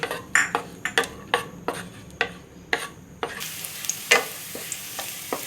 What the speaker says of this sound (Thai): แล้วเราก็ไปเจียว เอา กระเทียมครับ ที่เตรียมไว้ซอยๆ แล้วก็มาเจียวครับ